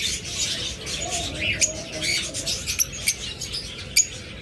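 A caged pair of pet budgerigars gives sharp, scattered chirps and short tweets, several distinct calls popping out close by over a low background murmur.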